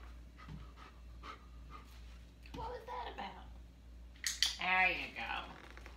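A dog pants steadily and rhythmically close by. Near the end comes a louder burst of breathy panting mixed with a brief whine, over a low background hum.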